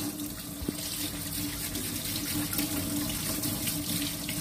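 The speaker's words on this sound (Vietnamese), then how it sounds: "Rồi các bạn rửa sạch khoai, rửa sạch nó có đấy gần cái này đây con ấy." Sweet potatoes are washed under running tap water at a sink, with a steady close gush of water and small splashes and knocks as the potatoes are handled.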